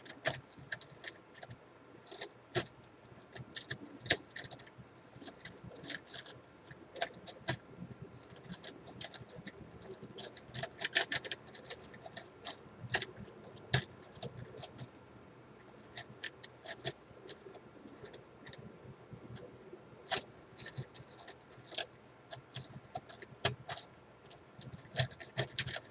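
A pile of coins is rustled and dropped during counting in a whispered ASMR setting, giving a long run of close, irregular metallic clicks and clinks with small clusters and brief pauses.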